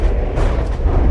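Explosions from Gauss cannons in From the Depths, a heavy, loud rumbling boom with overlapping blasts filling a brief moment, no talk.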